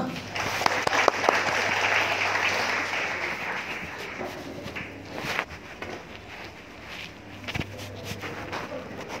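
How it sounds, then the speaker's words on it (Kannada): Audience applause at a Kannada lecture hall, a broad steady wash of clapping with scattered sharper claps that thins toward the end, with no voices over it. "ಎಲ್ಲರಿಗೂ ಒಂದು ಚಪ್ಪಾಳೆ ಹೊಡೆದು ಬಿಡೋಣ."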